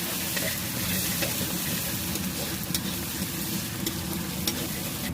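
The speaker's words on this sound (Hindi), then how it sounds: "पूरा फ्राई हुआ थे मसाला मन आप मन देख सकत हो।" Onion and masala sizzle loudly while frying for a mutton curry at an outdoor picnic cookout, a constant crackling fry with occasional stirring knocks.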